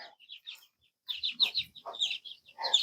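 Young chickens, including a rooster and a hen, cluck and chirp in quick, irregular bursts, fairly close, with a few louder squawky calls and brief pauses between.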